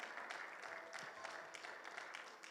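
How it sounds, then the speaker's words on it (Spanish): Congregation in a church claps in praise, a faint, fairly quiet patter of hand claps with scattered sharper individual claps, no speech. "Denle un fuerte aplauso al Señor, por favor."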